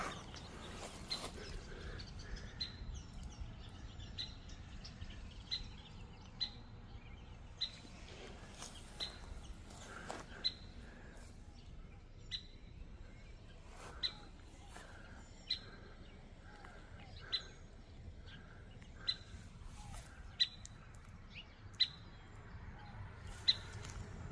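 Small birds chirp in a quiet cemetery on a calm day with a steady breeze, giving short, bright calls repeated at intervals, some near and some farther off, over a low, constant background hiss.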